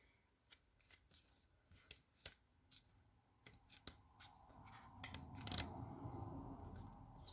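Scissors cutting small paper figures out of thin card, a series of sharp snipping clicks at an uneven rhythm, close and quiet, followed by a louder rustling of paper.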